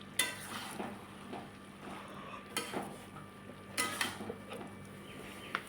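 Garam masala being stirred into fish head chhyachra in a pan: a few scattered utensil scrapes and clinks at a low level, separated by quiet stretches.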